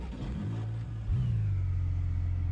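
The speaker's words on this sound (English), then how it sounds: "Engine started." A race car engine in the rFactor 2 sim racing game cranks and catches, then settles into a steady low idle drone, close and moderately loud.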